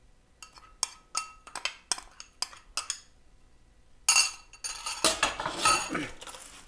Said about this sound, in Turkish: Böyle karıştıralım.